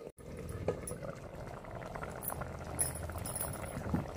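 Mixed vegetable palya curry simmering on a low flame in a half-covered pan, a soft steady bubbling hiss with faint pops and a brief clink, close and gentle throughout.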